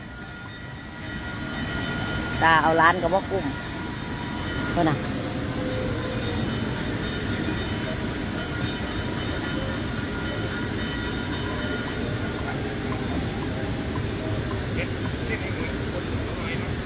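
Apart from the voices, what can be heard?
train passing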